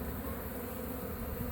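Honey bees swarm around a bait hive set up in a birdhouse, their dense, steady buzzing drone close and continuous for the whole moment with no voices.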